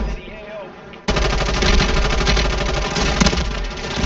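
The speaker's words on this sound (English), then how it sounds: "I'm shooting this guy, nothing is happening." Automatic gunfire in the Warzone 3 video game's Lockdown mode, a loud, rapid, sustained burst that erupts suddenly after a second of quieter game sound and hammers on for about three seconds.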